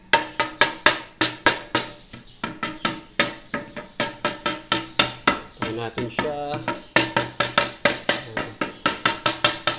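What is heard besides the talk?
tapping newly laid floor tiles with wood to check for hollowness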